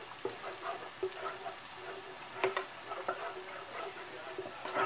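Margarine melting in a hot pan gives a soft, steady sizzle with faint crackles and occasional scraping clicks from stirring, fairly quiet and close.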